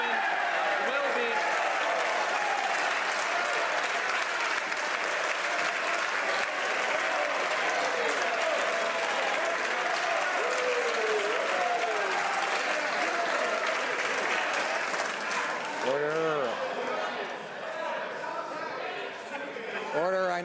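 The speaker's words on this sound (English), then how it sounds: "I know members are anxious to applaud the Prime Minister" Members of the Canadian House of Commons applaud the Prime Minister in the chamber, sustained dense clapping that fills the room and carries on for a long stretch, thinning slightly near the end as voices rise.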